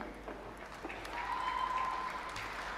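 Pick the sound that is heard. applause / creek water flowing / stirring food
applause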